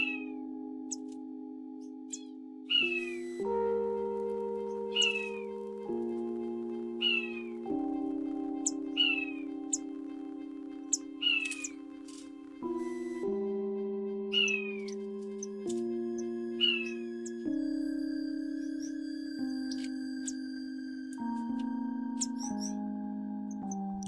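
Finches in an aviary give short, high chirps again and again over about twenty seconds, with steady music playing underneath.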